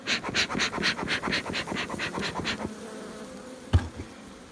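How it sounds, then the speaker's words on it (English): Honey bees in a nuc hive open for inspection, buzzing close and loud in pulsing surges that settle into a steady drone, with one sharp knock near the end. "move the bees out of the way here"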